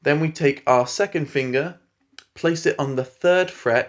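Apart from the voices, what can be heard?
No everyday noise stands out behind the speech.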